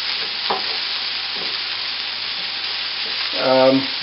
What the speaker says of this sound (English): And I'd saute the broccoli and the onions together. I'll fry that for a minute or so.